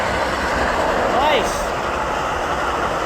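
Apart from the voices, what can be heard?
Amtrak 2103 Capitol Corridor train passing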